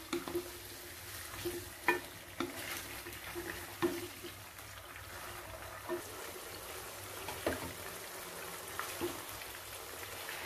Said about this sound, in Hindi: इसे हम अच्छे से मिक्स करेंगे।